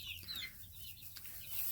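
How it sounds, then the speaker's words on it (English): Faint, soft clucking from small chickens close by, a few short calls over a quiet background hum. "our solution currently for having little baby chickens that are escaping"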